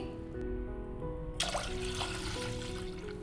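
Water pours into a container of upma semolina (rava) to soak it, a steady trickling splash that turns fuller and brighter partway through, close and alone.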